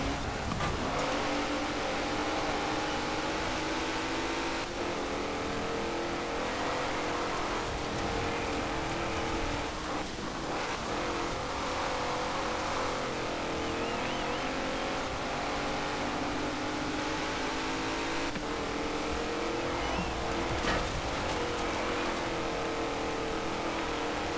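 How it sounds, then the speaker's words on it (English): Twin-turbocharged V8 race car in Forza Horizon 4 during a seasonal championship, a loud continuous engine drone held at high revs with shifting tone and brief dips, dominating throughout. "Turbochargers are doing a less of the noise dampening than usual with these V8 engines, or at least with these twin turbocharged kind of engines."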